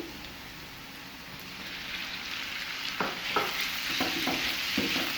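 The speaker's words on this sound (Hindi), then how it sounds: "मिक्स करेंगे और चिकन को हम इस वक्त तक कुक करेंगे जब तक कि ये पिंक से वाइट नहीं हो जाता।" Chicken pieces frying with softened onions in a pan over a medium flame, a constant sizzle with a few sharp stirring clatters and scrapes near the end, no talking.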